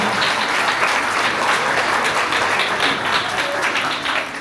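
An audience at an indoor talk with a film actress claps together in a dense, steady round of applause that fades slightly at the end.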